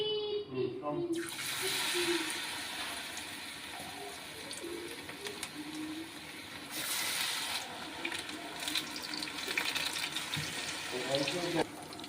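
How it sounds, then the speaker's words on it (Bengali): Large onion fritters (peyaji) fry in hot oil with a dense, continuous sizzle that rises and falls, close by, with occasional clatters and a voice speaking over it. "তেলটা আমার গরম হয়ে গেছে আমি এবার বড় বড় করে দিয়ে দিচ্ছি"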